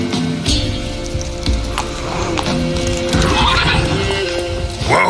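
Roach the horse in The Witcher 3 video game: hooves clopping, whinnying and tack rattling, all fairly loud and close over a constant game background, with scattered bursts of movement.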